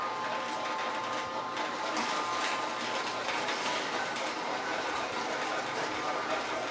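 A juicer machine runs steadily while juicing celery, producing a continuous mechanical whirr and grinding at a constant, moderate level throughout.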